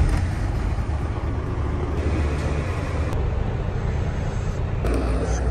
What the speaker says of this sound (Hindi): 10 मिनट के लिए गाड़ी स्टार्ट करते हैं और जो है ना प्रेशर बन जाएगा, ब्रेकें भी अच्छी तरह काम करेंगे